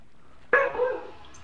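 A dog outside in a garden gives a single short bark at middle distance, followed by a brief trailing whine against quiet surroundings.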